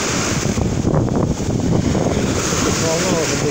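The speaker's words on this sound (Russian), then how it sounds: "Волна уже больше метра." Strong wind and waves over a metre high rolling against a boat on open water during a salmon and sea trout fishing trip, a loud continuous roar of gusts and washing water with heavy wind buffeting on the microphone.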